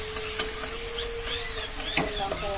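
Garlic paste frying in a pan with browned onions, a steady hiss and sizzle with a few sharp stirring clicks and scrapes, close and moderately loud.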